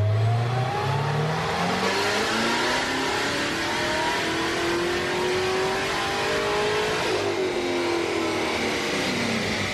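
A 650-horsepower Corvette C7 Z06 engine revs hard on a dyno base run, its loud exhaust note climbing steadily in pitch, dipping briefly and rising again, continuous and close.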